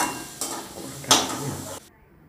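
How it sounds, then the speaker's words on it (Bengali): Fried potatoes lifted out of hot oil into a bowl for a vegetarian potato dum, giving a couple of short metallic scrapes and clinks over a faint sizzle before falling quiet. "দেখো আলুগুলো ভাজা হয়ে গেছে লাল করে। এবার আমি তুলে দেবো বাটিতে।"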